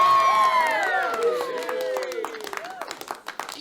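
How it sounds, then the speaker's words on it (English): A small studio crowd bursts into applause, cheering and whoops, loud at first with excited shouts, then thinning into scattered claps and voices. "Hold for applause."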